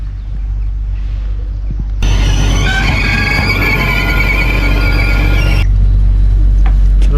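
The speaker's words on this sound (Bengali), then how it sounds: "আমাদের ট্রেন এসে গেছে এই ট্রেনে করেই আমরা পৌঁছে যাব" A French regional train pulls into a station nearby with a loud rumble and high metallic squeal of brakes, which cuts off as it comes to a stop.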